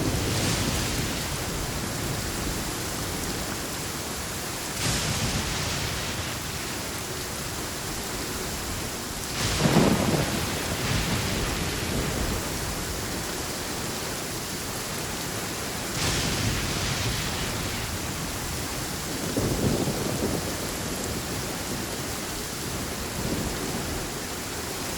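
Steady rain falls in the video game Genshin Impact, with several low rumbles of thunder rolling in and out across the stretch, a continuous wash of noise with no talking.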